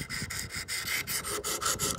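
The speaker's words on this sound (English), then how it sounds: "I'm using the 200 paddles now, 200 grit diamond paddles" Knife sharpening on a Wicked Edge system with 200 grit diamond paddles working an old Buck 110 blade: rhythmic rasping strokes, about ten quick back-and-forth passes, close and clear with no talking.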